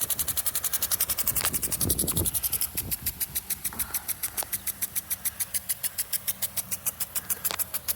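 A Champ U260 3/4-inch dual-nozzle impact sprinkler runs off a garden hose with an even, rapid ticking pulse, several clicks per second, steady and fairly close, with faint background rumble.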